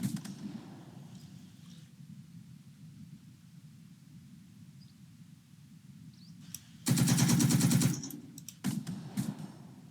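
Machine gun fire in the video game Second Front, a single loud burst of about one second that stands out over a steady low rumble, followed by a few scattered shots.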